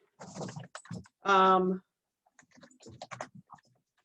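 Light clicking of keys on a computer keyboard comes in short bursts, mixed with a voice and a brief humming tone.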